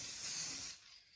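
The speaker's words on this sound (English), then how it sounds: "we did spray paint that, and spray painting does cause a lot of, it will break down this foam" Spray paint hissing from an aerosol can onto a foam rock wall for a tabletop terrain piece, one steady close burst that stops abruptly after under a second.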